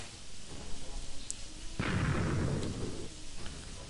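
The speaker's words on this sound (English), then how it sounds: "Oh, another creeper explosion" A creeper explosion in Minecraft: a sudden broad blast bursts in partway through, then rumbles and fades over a couple of seconds above a steady background of game ambience.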